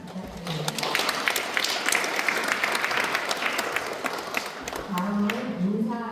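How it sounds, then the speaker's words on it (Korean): Congregation at a Won Buddhist temple's Sunday service breaks into sustained applause lasting several seconds, dense and steady, with a speaking voice coming back in near the end. "좋은 글 보내주신 이한빈 교도님께 큰 박수 부탁드립니다"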